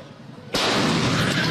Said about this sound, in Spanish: esta explosión que se escuchó a 10 cuadras a la redonda alarmó a los habitantes de La Garzota